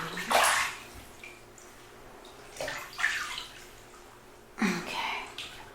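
Water splashes and trickles onto a leg in three separate close, soft bursts with quiet gaps between them, set in a bathroom-like space.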